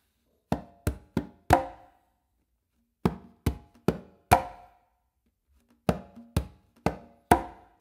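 Conga clave independence exercise: three groups of crisp hand strikes, each a quick run of three or four hits ending on a louder accent, mixing deep bass tones and sharp close slaps, separated by short silences, close and solo.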